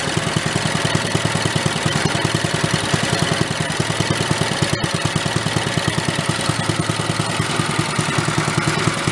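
A small gasoline engine fitted into a 1960s Corvair Monza toy car runs steadily, a loud, close, rapid chugging idle with a fast, even rattling pulse and no talking.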